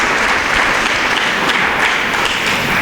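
Audience applause at a school speech day after a call to thank a sponsor, a dense steady wash of clapping from a large crowd, loud and even throughout.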